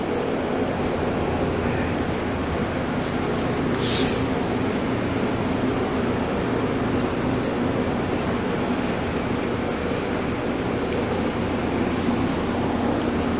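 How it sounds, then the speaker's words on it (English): A powder coating spray booth runs steadily in a shop where airboat parts are coated, its broad, continuous fan roar filling the space at an even level throughout with no talk. "The noise you hear in here is the booth running."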